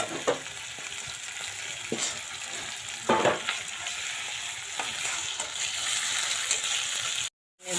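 Cashew-style nut paste with cumin paste frying in a pan for a roast curry, a steady broadband sizzle with several sharp stirring scrapes, close and continuous, cutting out briefly near the end.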